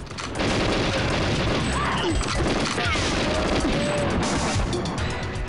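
Dense, continuous bursts of explosions and gunfire in Super Mario Goldeneye 64 crackle without pause, loud and layered throughout.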